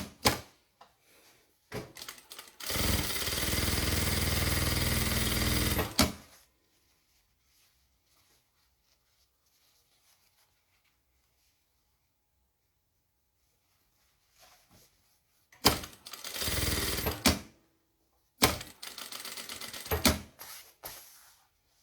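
A sewing machine stitches a double pencil case in short bursts: one long run of rapid whirring stitching, then silence, then two shorter runs near the end, close and clear.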